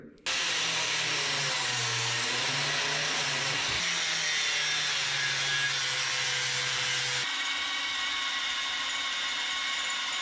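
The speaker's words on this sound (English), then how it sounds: "a good thrust in here is key to proper drilling" A drill grinds continuously through a rivet on a 1976 GMC short bed truck's frame hanger, a loud, close, sustained whine that shifts pitch as pressure changes, with no pauses.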